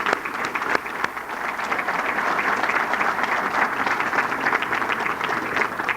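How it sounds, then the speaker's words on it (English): Audience applause at a 1998 NEAR Hall of Fame ceremony, a steady dense crowd clapping that stays loud and even throughout with no talk over it. "A nice round of applause."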